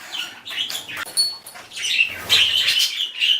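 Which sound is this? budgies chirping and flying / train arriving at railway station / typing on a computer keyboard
budgies chirping and flying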